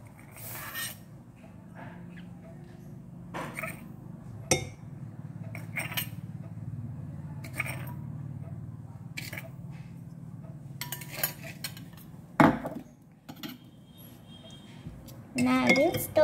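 A spoon clinks and scrapes against a glass as water is stirred, light intermittent taps over a quiet background hum with a person speaking between them.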